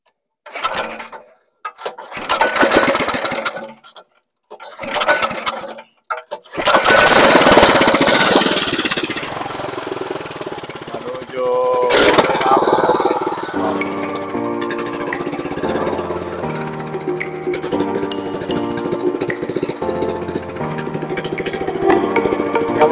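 An engine starts up loud and close after a few brief bursts of noise, then settles into a steady, rumbling run with a mid-pitched drone that continues to the end.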